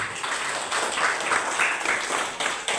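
Schoolchildren in an elementary classroom clap briefly together during a computational thinking lesson, a short dense burst of applause with some faint voices mixed in.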